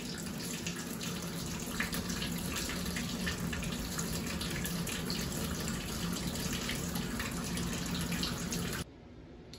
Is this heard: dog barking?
no